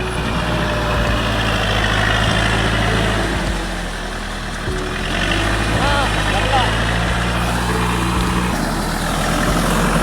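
A tractor engine idles steadily at close range, a low continuous rumble with a brief dip in level midway, while people talk over it.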